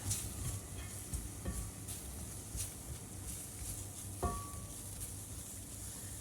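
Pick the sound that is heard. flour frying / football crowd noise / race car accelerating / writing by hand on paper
flour frying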